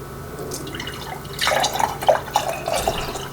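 Hot rendered tallow poured into mason jars, with soft intermittent splashing and dripping that starts faint and grows busier partway through, close by with no talking.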